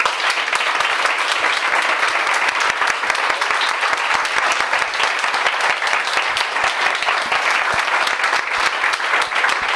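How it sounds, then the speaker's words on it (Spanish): An audience at a book talk claps loudly and steadily throughout, a dense sustained round of applause with no voices standing out. "Y muchísimas gracias, un muy fuerte aplauso a Vicente."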